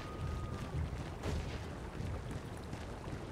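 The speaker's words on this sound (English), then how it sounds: "I can hear gunfire." Gunfire and heavy booms from the video game Red Faction Guerrilla form a dense, steady roar of rapid bursts and explosions, with one sharper blast near the middle.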